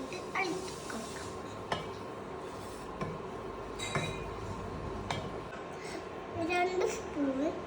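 Cooked chicken is mixed with spice powders in a pan, with a spoon scraping and clinking steadily against the metal under a low background hum.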